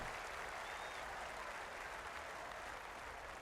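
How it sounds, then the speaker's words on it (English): Golf gallery cheering and clapping at Augusta in EA Sports PGA Tour, a steady, even wash of crowd applause that holds throughout without rising or fading. "Happy Gilmore takes in the crowd's cheers."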